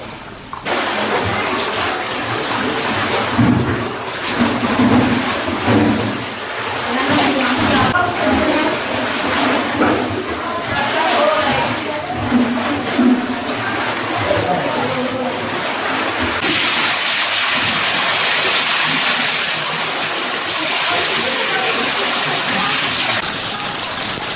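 Floodwater from a creek that overflowed after torrential rain in Bingöl, rushing steadily and loudly close by as one continuous roar, with faint voices briefly underneath and a harsher, brighter surge of water near the end.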